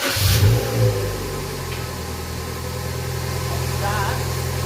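A Suzuki Swift ZC31S engine running steadily after a short burst at the start, with a low continuous engine drone, fairly close and moderately loud throughout.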